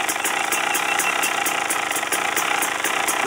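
A motorcycle engine idles on a cool morning around 50 degrees, a steady close, loud rapid chugging with regular ticking pulses running throughout.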